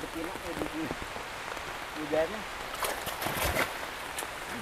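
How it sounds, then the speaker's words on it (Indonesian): Rain falls outdoors near a fish pond, a soft, steady hiss with a few louder patters, heard faintly while people talk nearby. "Hujannya."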